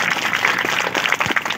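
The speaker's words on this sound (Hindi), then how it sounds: "मैं चाहूंगा कि दोनों के नाम पे जोरदार ताली बजाइए आप लोग" A crowd at an outdoor constitution day political gathering claps, a scattered burst of applause from many hands, moderately loud and somewhat uneven, with no speech over it.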